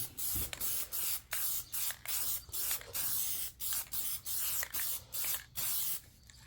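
Plasti Dip aerosol sprayed from a can onto an Acura TL in a heavy third coat, a series of about a dozen short sharp hissing bursts with brief pauses between them, close and loud with no voices.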